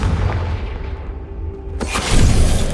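A Confringo fire spell cast in Hogwarts Legacy, a sudden sharp explosive burst partway through that spills into a louder, rumbling crackle, set over steady game ambience with no talking.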